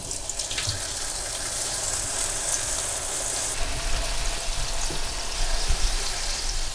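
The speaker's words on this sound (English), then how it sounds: "can we hear it sizzle? Yes, we can." Steady, hissing sizzle of halloumi frying in a pan, close and continuous, with faint crackles and no talking.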